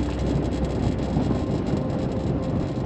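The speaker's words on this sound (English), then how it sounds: "right now the north wind is blowing so hard" Strong north wind gusting across Lake Lavon at a waterfront park, a steady loud rumbling roar buffeting the microphone throughout with no pauses.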